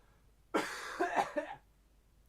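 A man coughs once in a short rough burst of two or three hacks, close to the mic, with quiet before and after.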